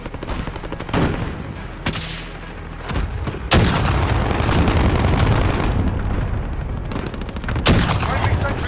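Cluster strike in Call of Duty: Modern Warfare: loud, dense volleys of explosions and booms overlapping rapid gunfire, with heavy blasts near 3.5 and 7.7 seconds and brief voice chatter underneath.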